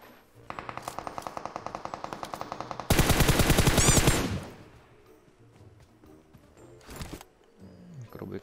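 PUBG video game gunfire: a rapid automatic burst of evenly spaced shots, then a denser roaring volley, followed by a few scattered quieter shots and game noise, with a voice talking over it.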